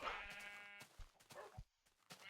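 A Minecraft sheep, Beta 1.7.3, gives a clear, wavering bleat up front, followed by a couple of shorter sharp game sounds, close and alone without voices.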